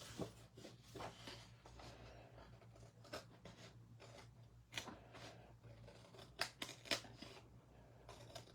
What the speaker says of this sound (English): now I'm just gonna trim off the excess using my scissors